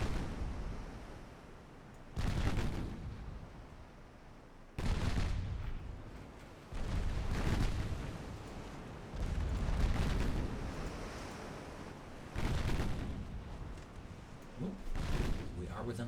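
Single 5-inch naval guns firing in a warship battle game, heard as a series of loud, heavy booms spaced a second or two apart, each with a rumbling tail, while a voice talks over the firing.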